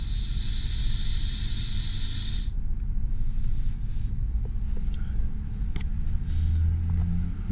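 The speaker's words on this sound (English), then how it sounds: "It does turn on, however, it's not getting a radio signal." Steady broadband hiss of static from the radio of a 1997 Toyota Land Cruiser FJ80 with no station tuned in, brighter and harsher for the first couple of seconds and then a duller, even noise.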